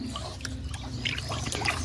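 A liquid solution is poured into a pump, giving a faint, steady trickle with a few small splashy drips over a low background hum.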